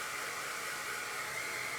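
A hair dryer blows steadily and close by, drying paint on a wooden pumpkin shelf sitter, with an even, continuous airy roar and no talking.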